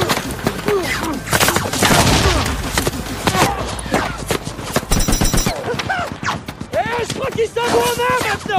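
Gunfire from a movie shootout with a sniper team and attackers, loud rapid bursts of automatic fire and single shots crackling close by, mixed with shouting voices and dramatic film sound.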